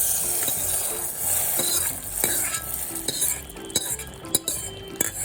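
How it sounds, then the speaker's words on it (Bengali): Hot tempering with curry leaves poured into tomato masoor dal, giving a bright sizzling hiss, with sharp clinks of a spoon against the pot and stirring scrapes growing more frequent toward the end. "এবার আমি এই ডালের মধ্যেই ফোড়নটা ঢেলে দেবো"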